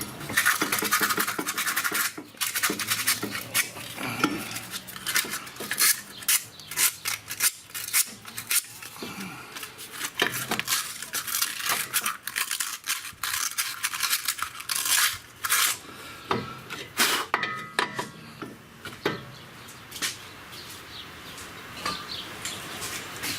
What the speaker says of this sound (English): I'm gonna clean that caliper face off a little bit.